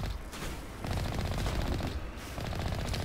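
Bursts of gunfire outside in the video game Mass Effect Legendary Edition, a dense rattling fusillade that runs loudly and continuously through the moment with no speech over it.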